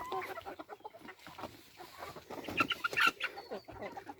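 Hens cluck and squawk in bursts close by as they are let out, with a busier flurry of calls toward the end.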